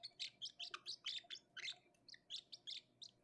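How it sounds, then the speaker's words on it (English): High, thin baby bird chirps repeat in quick bursts of roughly two to four per second, fairly faint over a low background hum. "baby bird. Bird."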